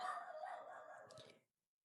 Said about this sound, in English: Apologies in advance for the barking dogs.